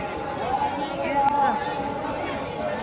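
Steady crowd chatter at Salasar Balaji temple, a continuous babble of many voices with a faint tonal hum, even and moderately loud throughout.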